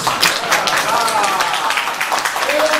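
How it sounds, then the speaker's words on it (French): A church congregation applauds during a sermon on evangelism, dense clapping filling the room while voices carry over and through it. "Je pense qu'on peut applaudir et donner 11 sur 10"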